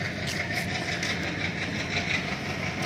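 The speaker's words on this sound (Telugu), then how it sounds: "మనం వచ్చిన ట్రైన్ కూడా అవుతుంది." A train stands at Doddaballapur railway station at night with a steady, low mechanical rumble and faint clanking, moderately loud and continuous.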